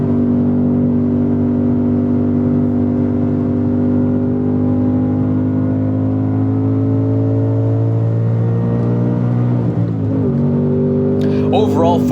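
A 2024 Ford Mustang Dark Horse engine revs loudly and steadily on a race track, pitch climbing under load in third gear, then dips briefly as it shifts before pulling again.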